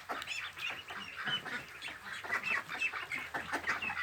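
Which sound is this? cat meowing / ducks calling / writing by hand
ducks calling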